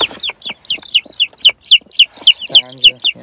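Newly hatched native farm chicks give a rapid, even series of loud, high chirping peeps close by, followed by a short clucking call near the end.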